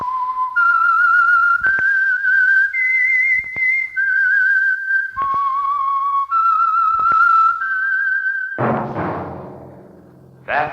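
A clear whistled theme tune, a series of sustained pitched notes rising and falling, followed by a low resonant musical hit near the end.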